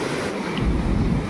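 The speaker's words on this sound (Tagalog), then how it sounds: "Ang alon, no? Grabe," Strong sea waves stirred up after Typhoon Tino, a loud continuous roar of surf with heavy wind buffeting the microphone, swelling louder midway through.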